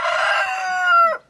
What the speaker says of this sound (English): chickens that are keeping us company and saying hello